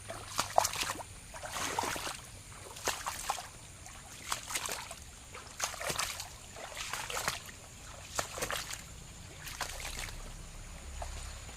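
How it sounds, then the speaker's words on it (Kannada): Water runs down from a hill over a cleaned channel near a house in a quiet trickle, with soft, uneven splashing gurgles at low level and no talking. "ಇಲ್ಲೇ ನೋಡಿ ಇವಾಗ ನೀರು ಹರಿತಾ ಇದೆ"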